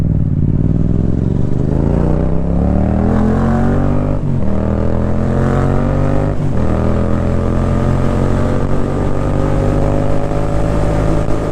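A motorcycle ridden slowly and carefully through a residential area, its engine droning loud and close with steady gear whine and two brief dips where the throttle eases, without speech.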